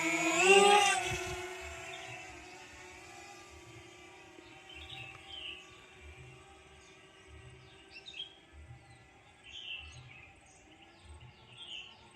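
A DJI Mavic Mini drone's rotors spin up with a rising whine at the start, then hold a steady buzzing hum as it climbs away, with birds chirping faintly around it outdoors.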